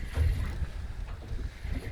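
Gusts of wind buffet the microphone around a small boat out in a bay, a rough low rumble with a steady whooshing wash and no voices.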